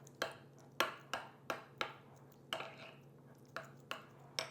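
A spoon clinks against a bowl as Greek yogurt is stirred into pumpkin, giving about eight sharp, evenly spaced taps close by over a low steady hum, with no talk.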